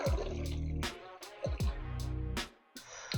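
Liquid glugs and splashes in repeated bursts, with short gaps between the pours, close and fairly loud.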